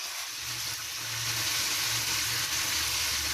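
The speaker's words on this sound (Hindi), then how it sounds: "यहाँ पर चिकन फ्राई हो रहा है" Steady, dense sizzling of chicken frying in hot oil in a pan, close up and continuous, with faint stirring noises underneath.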